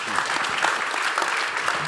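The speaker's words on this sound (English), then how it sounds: "Big round of applause for them." An audience at a panel discussion applauds the panelists, a short burst of dense clapping filling the room, with a voice faintly audible underneath.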